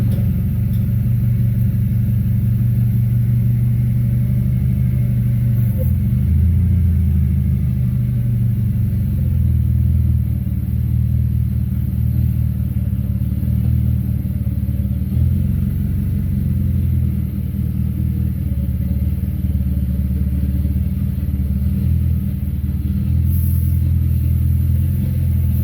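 A small Jeep with an oversized engine idles with a steady, loud mid-range rumble and slight shaking throb, running continuously close by without talk.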